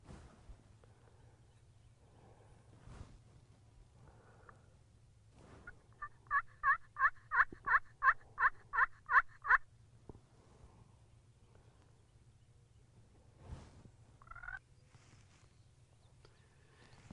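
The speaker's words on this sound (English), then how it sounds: "We've got one gobbler" A wild turkey gobbler gobbles once in a quick rattling burst of about ten pulses, carried from a distance across open Texas country with a faint steady hum beneath.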